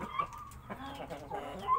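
A Japanese Chu Shamo rooster of about 3.5 kg that has just finished moulting gives soft, close clucks in a short, uneven series, with faint background noise around it.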